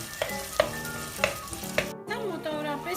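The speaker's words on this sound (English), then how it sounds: "On a medium-high flame, we're going to go ahead and stir these together for about 3 minutes." Tomatoes frying in a pan for eggplant spread sizzle up close while a utensil scrapes and clinks against the pan four times in a steady rhythm, with no talk.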